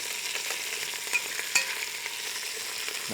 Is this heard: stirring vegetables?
yes